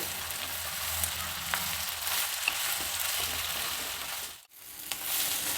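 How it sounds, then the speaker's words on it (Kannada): Brinjal pieces fry in oil over a medium flame, a continuous close crackling sizzle broken by the soft scrape of stirring, with a brief drop to near silence toward the end. "ಇದನ್ನು ಮೀಡಿಯಮ್ ಫ್ಲೇಮಲ್ಲಿ ಕೈ ಆಡಿಸ್ತಾ ಫ್ರೈ ಮಾಡಬೇಕು"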